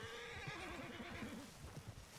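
Horse in Red Dead Redemption 2 whinnying softly, a quavering neigh rising and falling over about a second amid faint hoof shuffles, quiet and close with no talk.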